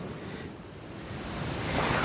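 Sea waves washing onto a beach in Cuba, a broad rushing surf that swells louder toward the end, heard up close with some wind on the microphone.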